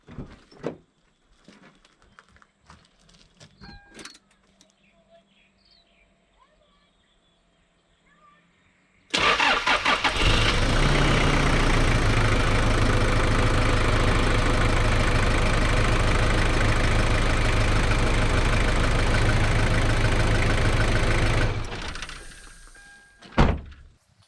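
A car engine cranks and catches on its first start after a couple of months sitting unused, then runs loudly and steadily for about twelve seconds before cutting off, after quiet clunks and handling noises.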